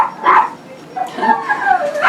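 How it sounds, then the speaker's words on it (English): An excited dog barks and yips in short bursts nearby, loud and close, between whimpering sounds. "my dog's excited"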